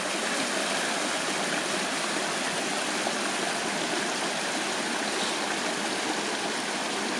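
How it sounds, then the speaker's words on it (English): A winter waterfall at Red River Gorge gives a loud, steady rushing roar of falling water that stays unbroken and close throughout, with no voices. "Got a pretty waterfall right here."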